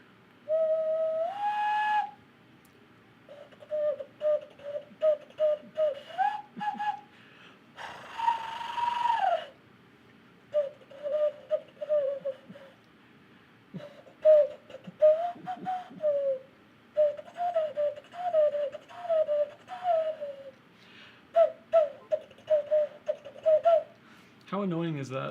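Someone blows hand whistles imitating an owl call, producing repeated hollow hooting tones in short bursts with some rising and warbling notes, close and loud, with brief voices between calls.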